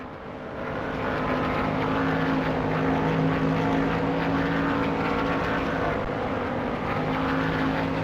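A race car engine in NASCAR Thunder 2003 drones loudly and steadily, a sustained buzzing roar that swells slightly as the car runs a lap.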